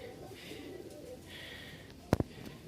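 A male Tiger Giribaz pigeon from Rajshahi coos softly in low, faint murmurs, with a couple of sharp clicks close by.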